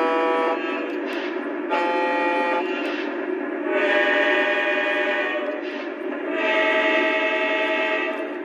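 A Lionel US Army Veranda Turbine toy train blows its several horns at differing pitches, loud close chords in three or four long blasts separated by brief dips.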